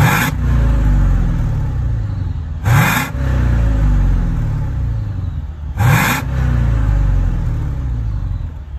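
A Mercedes-Benz S550 W222 with a 4.6 biturbo V8, sports catalysts and an adjustable exhaust with its flaps closed revs three times in sharp, loud bursts, each falling back to a deep, steady idle rumble between.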